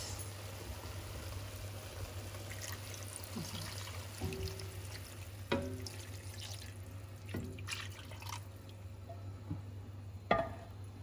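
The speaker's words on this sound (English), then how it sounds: "Just put a little more water in it." Water is added from a tap into a pot of Jamaican oxtail being cooked, a quiet running and splashing with a few sharper clinks, set against a steady low hum.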